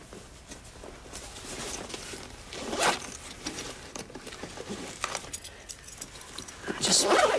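A bunch of keys jangles and rattles as it is handed over in a drama scene, with scattered metallic clinks and rustling, loudest near the end, and a voice speaking at times.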